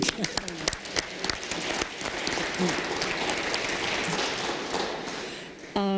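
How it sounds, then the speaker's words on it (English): Audience applause at a Cleveland City Council swearing-in ceremony, a dense steady wash of clapping from a crowd lasting throughout, with some voices and a few sharp claps near the start. "And we're giving an applause."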